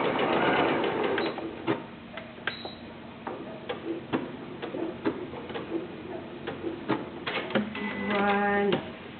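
A new sewing machine stitches a one-piece fabric face mask. Short bursts of fast needle chatter alternate with clicks, knocks and pauses, and a busier rattling run comes near the end.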